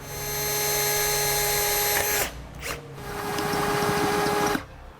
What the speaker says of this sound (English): we're going to take a smaller drill bit to drill a pilot hole